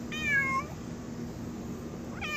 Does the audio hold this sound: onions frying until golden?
no